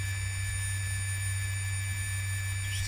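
A steady, droning hum with constant high whining tones from an OMPHobby M2 RC helicopter rotor spinning at low head speed, slightly rough, continuous and even.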